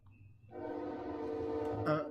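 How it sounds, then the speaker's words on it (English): A passing train sounds its horn in a sustained, droning blast that swells and holds, with a low rumble underneath, heard faintly from indoors. "The train's coming at this exact moment."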